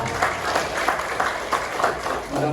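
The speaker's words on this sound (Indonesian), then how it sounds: "saya ajak Bapak Ibu semangat tepuk tangan, angkat tangan" A seminar audience claps together in a lively burst of rhythmic applause, many hands close and dense, with a voice briefly heard near the end.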